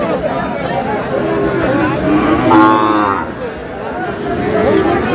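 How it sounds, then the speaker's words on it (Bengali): Cattle moo loudly at a livestock market in Sylhet where Sahiwal bull calves are sold, with one drawn-out low moo standing out over a noisy crowd and nearby talk. "সেই গরু, এই গরুই তো"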